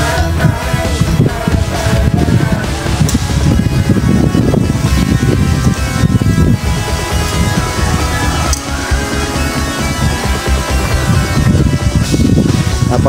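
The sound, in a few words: strong wind blowing at the beach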